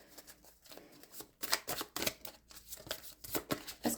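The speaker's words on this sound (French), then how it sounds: "je vais tirer une autre carte quand même dessus" Tarot cards shuffled by hand before a card is drawn, giving a close run of quick riffling, flicking bursts that grow louder and busier partway through, with no talk.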